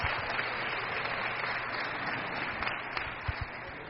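Spectators at a Kansas City racquetball semifinal clap in a continuous, moderately loud wash, with a few louder low thumps near the end.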